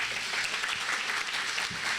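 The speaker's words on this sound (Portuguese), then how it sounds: "Aplauda bem forte ao Senhor." A church congregation applauds loudly in a full, continuous burst of clapping with a few low thumps underneath.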